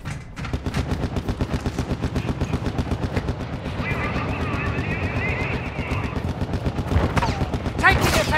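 Sustained automatic gunfire rattles in a fast, even stream during a Call of Duty: Modern Warfare II firefight, loud and close, with brief radio-style voices and effects layered over the shooting.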